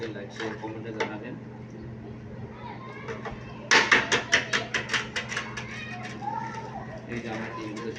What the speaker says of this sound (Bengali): এই যে আমার ডিমগুলো ছুটতেছি